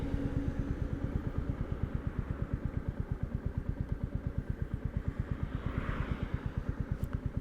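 A 2021 Royal Enfield Classic 350 motorcycle engine runs with a steady, rapid chugging rhythm during a standing-start sprint, holding an even pace throughout without any clear rise in speed.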